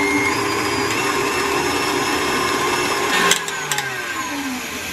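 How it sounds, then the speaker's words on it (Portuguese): Electric mixer beating two-milk cake batter until light and fluffy, a continuous motor whir at steady loudness, with a brief clatter of the beaters against the bowl near the end and no talking. "agora vamos bater essa mistura até que fique claro e fofo"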